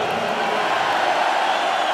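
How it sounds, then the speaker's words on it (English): A concert crowd at a 2009 show in Mexico City roars and cheers in a steady, dense wash of voices that holds at an even level throughout. "It's going to be the loudest crowd ever"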